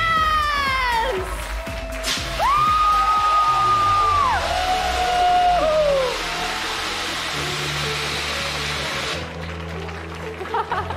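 An arena crowd at the eFootball Championship Open 2023 World Finals whoops, yells and cheers for the champions, swelling loudly for several seconds before fading.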